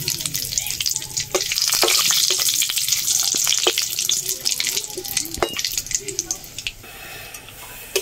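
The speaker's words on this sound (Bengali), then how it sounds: "তেজপাতা দিয়ে দিলাম, গোটা শুকনো লঙ্কা দিয়ে দিলাম" Bay leaves and whole dried red chillies fry in hot oil for a chicken curry, a bright, busy crackle close up with scattered sharp pops, easing somewhat toward the end.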